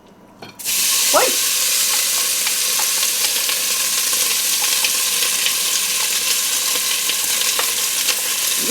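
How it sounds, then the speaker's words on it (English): Bacon strips sizzle loudly and steadily in a pot on a stovetop burner, with scattered clicks and scrapes from stirring throughout, after a brief quiet start. "So I'm going to cook the bacon until it is crispy,"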